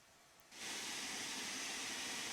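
A steam locomotive in Train Sim World 2 lets out a sudden broad hiss of steam that starts after a half-second lull and then holds steady and loud to the end.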